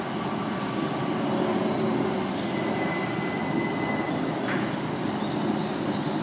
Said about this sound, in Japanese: 今ね、近鉄が着きました、まあ、近鉄電車着きました。